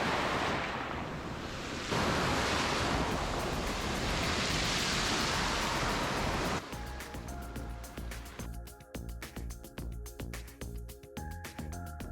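Ocean surf breaking at a surf spot in Jamaica, a loud, steady wash of waves and wind for the first half that gives way to a quieter, more broken stretch with rhythmic clicking and rattling alongside it.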